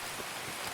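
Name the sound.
rain in the video game Escape from Tarkov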